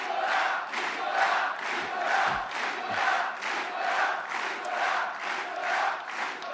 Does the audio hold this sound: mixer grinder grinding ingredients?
no